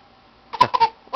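A small girl gives a few short, sharp coughs indoors. The bursts come close together after a quiet start, then one more cough follows.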